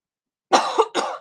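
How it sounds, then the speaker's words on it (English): A person coughs twice in quick succession, close and fairly loud, with a brief gap between the bursts. "Sorry, just had to cough then."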